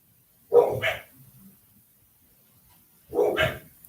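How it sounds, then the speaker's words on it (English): A dog barks at night in two short bursts, roughly two and a half seconds apart, fairly close and loud against an otherwise quiet background with a faint murmur between. "Just trying to listen because I know Emmy's bark"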